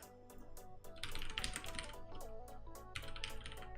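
Rapid, uneven clicking of keys on a computer keyboard, close and fairly loud, in busy bursts amid background music.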